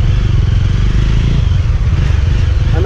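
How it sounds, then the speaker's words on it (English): A liquid-cooled Jawa 42 motorcycle rides through heavy city traffic, its engine a loud, steady low throb with rapid pulsing and wind rush throughout, no talking over it. "riding this Jawa bike in city traffic"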